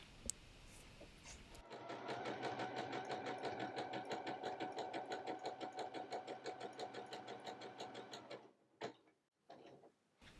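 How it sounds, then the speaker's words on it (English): A sewing machine stitching an appliqué onto a towel runs in a fast, steady mechanical rhythm for several seconds, loud and close, then stops, leaving a few brief handling noises. "And we'll just continue to stitch and finish this applique."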